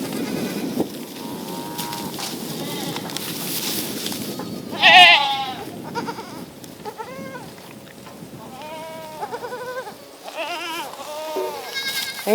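Kiko goats on a homestead bleat in several distinct calls, one loud and close near the middle and others softer, over a constant low background of farm noise.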